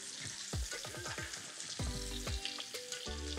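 Steak searing in a hot pan with butter and thyme, a steady sizzle broken by repeated scooping and clinking of a spoon basting the meat, close and fairly quiet, with no voices.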